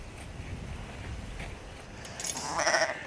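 Sheep bleat from a herd of lambs kept in an enclosure, one call rising clearly near the end over a low, continuous outdoor rumble.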